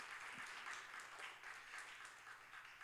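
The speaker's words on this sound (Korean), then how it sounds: "우리 하나님께 기쁨의 박수 함께 올려드리겠습니다." A high-school congregation applauds during a Sunday worship service in a church, a soft, even wash of many hands clapping heard at a distance, continuous and without voices.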